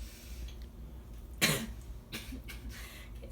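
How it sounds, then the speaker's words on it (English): A single sharp cough bursts out partway through, loud and close against a quiet room background, with no speech around it. "I have a bit of a cough here."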